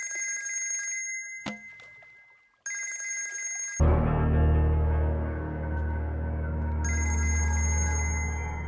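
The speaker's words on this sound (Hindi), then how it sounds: "बिल्ला, राशिद भाई कब से फोन कर रहे हैं।" A telephone bell rings in two bursts separated by a brief pause, then a deep low drone swells in as the ringing continues faintly above it.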